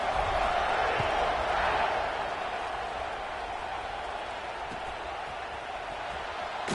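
A college football stadium crowd roars steadily as a team lines up to kick off, a dense wash of distant cheering that eases slightly after the first couple of seconds.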